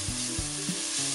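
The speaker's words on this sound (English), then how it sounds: "That's a very, very nice sizzle there." Sarma filling sautés in a pan with a close, bright sizzling hiss, broken by a few quick scraping stirs.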